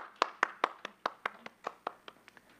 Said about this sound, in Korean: 우리 서로 바라보면서 좀 박수 좀 한번 쳐줄까요?